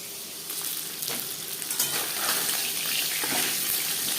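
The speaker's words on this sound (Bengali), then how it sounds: "জ্যান্ত মাছ আমি একটু হালকা করেই ভেজে নেব" Tangra fish fry gently in a pan, giving a continuous close sizzle with soft crackles and a few spattering bursts, with no talking.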